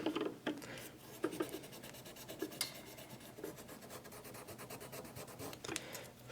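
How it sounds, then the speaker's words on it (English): Abrasive rubbed firmly over the crown guard of an Invicta 8926 Pro Diver watch during polishing, a quiet close scratching and rasping in uneven strokes with a few sharper scrapes. "just rubbing on it with some pretty decent amount of pressure."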